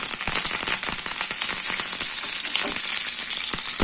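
Mustard seeds, urad dal and curry leaves sizzle and crackle in hot oil for a chutney tempering, a loud, dense, continuous frying hiss dotted with rapid pops, close up and with no one talking.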